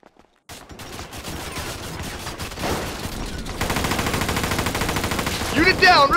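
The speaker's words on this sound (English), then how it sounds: "Get some suppressing fire in there!" Rapid automatic gunfire rattles through a GTA 5 bank robbery shootout, starting after a brief silence and building into a loud, continuous stream of shots with voices mixed underneath.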